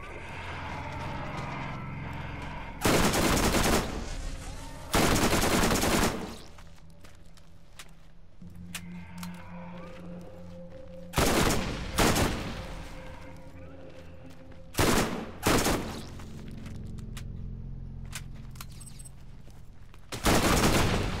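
Bursts of gunfire from the Borderlands video game ring out loud and close in several separate volleys, with quieter game ambience and movement in between.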